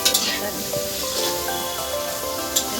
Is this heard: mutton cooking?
yes